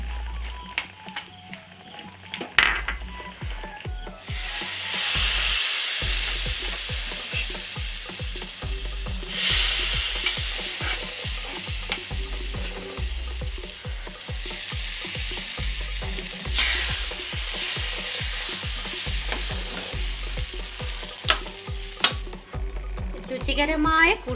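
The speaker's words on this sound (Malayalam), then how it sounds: "ഒരു ബ്രൗൺ കളർ ആവുന്ന വരെ വറുക്കണം കേട്ടോ" A spoon scrapes and stirs grated coconut roasting in a pan for koottu curry, giving a steady rhythm of close, repeated scraping strokes over a soft dry sizzle.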